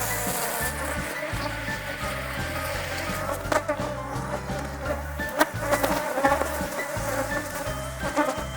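Bees buzz steadily at a Beecare Apiaries apiary, a dense continuous drone close to the microphone with occasional louder passes of individual bees, and no talking.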